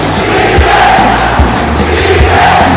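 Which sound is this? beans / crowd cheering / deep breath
crowd cheering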